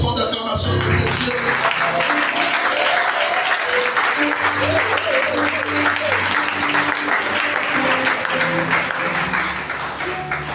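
A church congregation applauds loudly and continuously for about ten seconds as an offering of acclamation during an evening prayer service, the dense clapping mixed with cheers and faint music before tapering slightly at the end.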